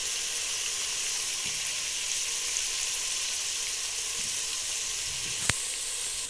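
Curry leaves and turmeric sizzle in hot oil for sambar, a steady close frying hiss that holds evenly throughout, broken once near the end by a sharp click.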